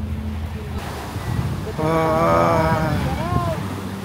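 Waves wash onto a black sand beach in Batangas with steady surf and wind rumble buffeting the microphone, while a tonal mechanical or engine drone rises partway through and a voice is briefly heard.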